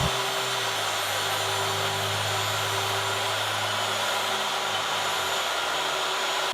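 Wood router flattening the high spot of an oak slab, a loud continuous whine with a steady motor hum that cuts off near the end.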